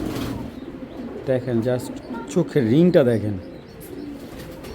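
Belgian racer pigeons coo in soft, throaty repeated bursts close by while someone talks over them.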